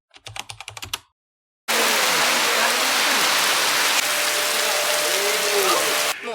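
Steady, dense rain pours down outdoors as a loud, continuous hiss that runs for several seconds. It follows a short burst of rapid tapping and a moment of silence.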